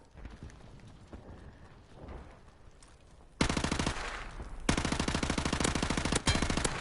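Automatic gunfire in Modern Warfare Remastered, a video game, rips out in loud, close, rapid bursts after a quieter stretch. The sharp shots repeat fast, with short gaps between the volleys.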